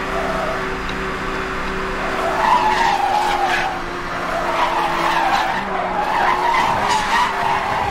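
Tires skid and squeal as a car drifts in Need for Speed Hot Pursuit 2010, a sustained loud screech over a humming engine that surges and eases in waves.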